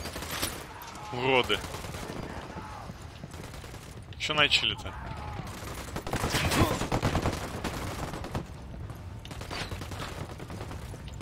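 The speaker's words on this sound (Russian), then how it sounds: "Открываю огонь по гадам." Bursts of rapid automatic gunfire and single shots crack out during a firefight in the video game Ghost Recon: Wildlands, arriving in irregular volleys over about eleven seconds while someone speaks briefly between them.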